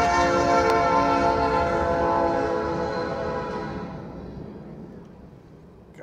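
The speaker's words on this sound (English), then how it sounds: "Could that train be any louder?" A train passes very loudly nearby, its sustained horn blaring over a rolling rumble that slowly fades into the distance.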